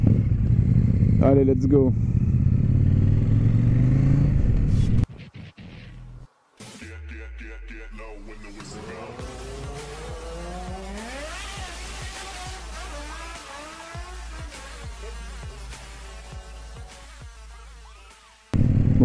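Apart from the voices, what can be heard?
Super Duke 1290 motorcycle with aftermarket exhaust riding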